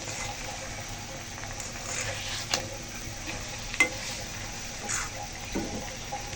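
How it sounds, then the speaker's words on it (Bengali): Noodles cooking in a pan with egg and sausages, a faint steady sizzle with occasional soft clinks and stirring scrapes, low and continuous throughout. "এই কটা দিয়ে এখন নুডলস রান্না করে দেবো"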